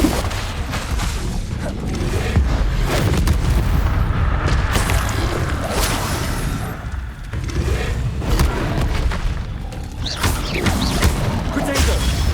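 Bombarda and Confringo spell explosions in the Hogwarts Legacy video game thunder one after another in deep, rumbling booms and crashes, with shouted spell incantations mixed into the continuous combat din.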